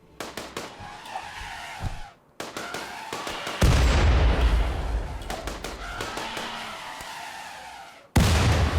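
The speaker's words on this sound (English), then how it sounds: "That grenade fell a bit close." A grenade explodes close by in a combat video game raid on a village, one heavy booming burst that roars and slowly decays amid sharp clicking game sounds, followed by another abrupt loud hit.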